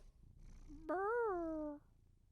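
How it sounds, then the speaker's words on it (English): A cat purrs once, a short, drawn-out vocal sound lasting under a second, close and fairly quiet against a silent room. "Just some Happy purrs from the kitty."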